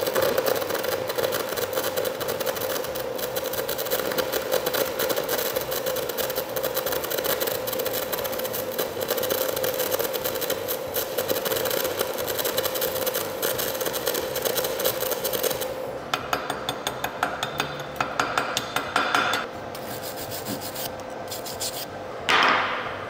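Stick welding with a flux-coated rod produces a steady, dense crackling hiss that runs continuously, then breaks into short sputtering bursts and stops near the end, with no talking.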